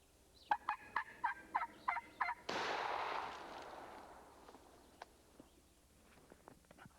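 A wild turkey gobbles in a rapid burst of several loud, rising calls at fairly close range, followed by a sharp blast-like burst of noise that slowly fades, with faint outdoor sounds afterward.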